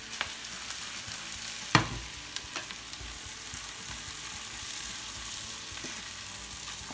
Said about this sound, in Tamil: இதை நல்லா கிண்டிப்போம்.